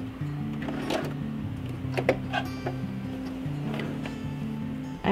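A sewing machine stitching buttons onto fabric runs with a steady mechanical hum and repeating rhythmic tones, with a few light clicks over about five seconds, and no voices.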